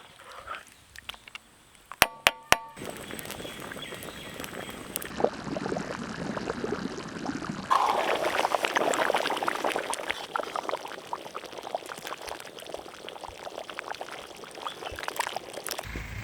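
Masala water poured into a pot of village-style mutton paya, a sustained splashing pour following a few sharp clinks, growing louder midway and continuing steadily to the end.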